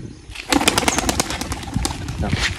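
Rapid wing flaps clatter as a pigeon takes off and flies, close at first and continuing briefly.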